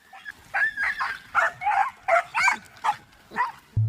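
Several dogs bark and yip in an excited, rapid, irregular volley, loud and close, as a man swings out over a lake; a brief low thump sounds at the very end.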